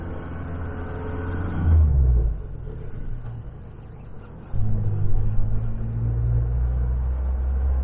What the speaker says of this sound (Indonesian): untuk suara mesinnya juga masih halus